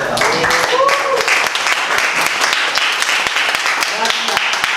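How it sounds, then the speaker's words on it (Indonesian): A classroom group applauds during a mathematics lesson, scattered sharp claps from nearby hands mixed with voices talking over the clapping. "Silakan beri tepuk tangan"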